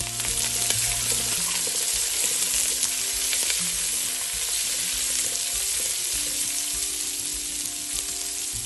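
Dried red chillies, torn curry leaves and sliced onion fry in hot oil for a beetroot fry, a loud, constant close sizzle with faint stirring throughout.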